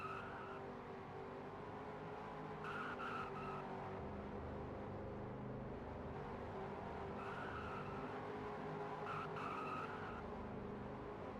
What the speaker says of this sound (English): Good burnouts here, Vento.